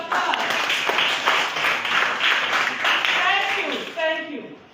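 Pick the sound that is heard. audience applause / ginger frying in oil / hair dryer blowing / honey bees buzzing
audience applause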